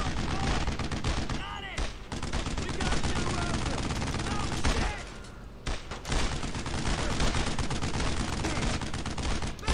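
Dense, continuous gunfire and machine-gun bursts in the World War II shooter Brothers in Arms: Road to Hill 30, loud and sustained for the whole stretch with a brief lull midway, shouting voices mixed in.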